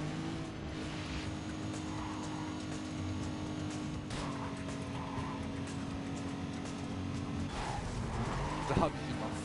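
In the racing game Need for Speed Carbon, a car engine drones steadily at high revs with gear changes and shifting pitch, while someone talks over it throughout.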